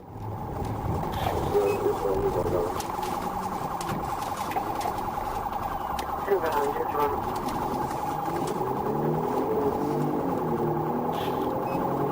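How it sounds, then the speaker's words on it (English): Police emergency siren from a patrol car starting a traffic stop on a highway, wailing steadily under heavy road noise throughout, moderately loud but partly buried in the rumble. "Trooper Akers activated his emergency equipment to conduct a traffic stop"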